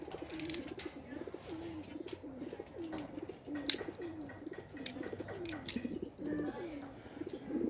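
Pigeons in a loft coo in a steady, repeating series of low, rolling calls, fairly close, with occasional sharper clicks and rustles around them; no one talks.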